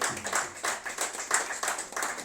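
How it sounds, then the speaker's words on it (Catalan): Brief, moderate clapping from a small audience gathered for a team's new uniform presentation, the claps arriving in uneven bursts with a slightly hollow, roomy feel. "un aplaudiment molt fort per tots els que heu vingut"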